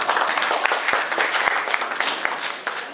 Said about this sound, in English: Give a big round of applause for any CodeCrafterss.